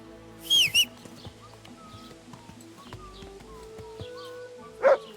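A dog in the video game Kingdom Come: Deliverance 2 gives a couple of short barks, with another bark near the end, over quiet ambient birdsong and background game sounds.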